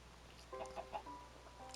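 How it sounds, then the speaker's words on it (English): Minecraft chickens cluck in a game farm, a few short soft clucks in quick succession over a low background hum, faint and close. "Are you all just trying to attack these poor chickens?"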